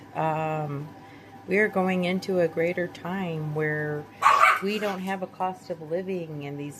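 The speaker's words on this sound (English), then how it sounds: "Excuse my dogs" Dogs bark and yip in the background of a home setting, faint barks scattered under someone speaking steadily throughout.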